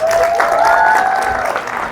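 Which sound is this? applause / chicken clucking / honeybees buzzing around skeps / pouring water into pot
applause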